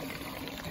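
Water pours steadily into a water tank in a drag racing pit, a continuous close rushing wash with no pauses, no voices over it.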